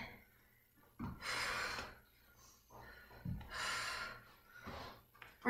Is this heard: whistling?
no